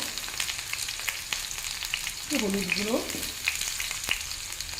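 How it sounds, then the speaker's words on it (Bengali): Potatoes fried on a high flame with onion and green chilli in a home kitchen pan give a constant close crackling sizzle with light stirring scrapes, while a voice briefly speaks midway over the frying. "হাই ফ্লেমেই আলুটা ভাজবো পেঁয়াজ লঙ্কার সঙ্গে"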